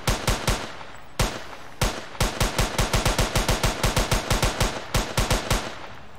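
Rapid gunfire from an Unreal Engine 4 shooter game: bursts of sharp, loud shots in quick succession, a few single cracks and brief pauses breaking up steady runs of repeated fire, with no talking.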